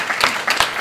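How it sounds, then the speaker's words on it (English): Audience applause at a hack day event, a short burst of clapping rising and falling in two quick swells. "Please give a last round of applause for the judges,"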